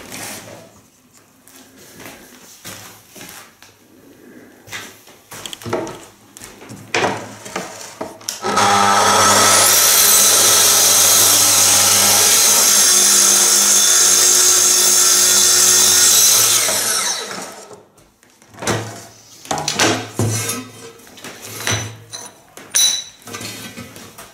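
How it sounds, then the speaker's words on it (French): A Festool TS75 plunge saw cuts an aluminium plate at 45 degrees: a loud, steady high-pitched whine with screeching metal runs for about eight seconds, with quieter shop handling and clatter before and after. "Voilà l'utilisation pour une découpe pour l'aluminium avec la scie TS75"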